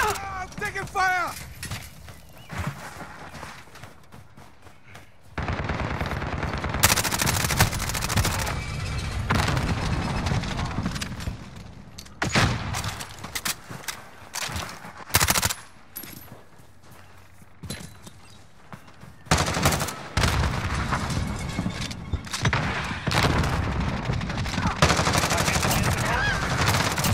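Heavy gunfire from Call of Duty: Modern Warfare in an online match at a capture point, with rapid bursts and loud booming shots cutting in and out over roughly half a minute, alongside footsteps and game voice callouts.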